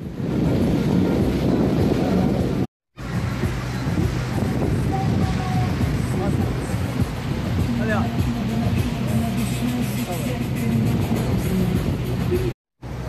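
Boat motoring across a reservoir lake in a deep canyon, with a steady low engine drone and wind buffeting the microphone almost continuously, and people talking over it.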